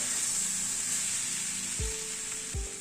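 Tomato sautéed in a pan over a medium gas flame makes an even, continuous sizzle up close, with two soft low bumps of a utensil near the end.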